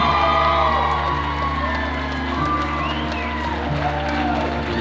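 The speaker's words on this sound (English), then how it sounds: "Give a round of applause, everyone." Wedding guests cheer and applaud in a noisy reception hall, voices shouting and whooping over scattered clapping, with a steady music-like hum underneath throughout.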